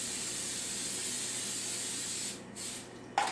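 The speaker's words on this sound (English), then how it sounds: "Put the olive oil in and you pump it with air. It's just like this." An air-pumped olive oil sprayer gives a long, even hiss of fine mist, then a short pause and one brief final burst at the end, heard close up.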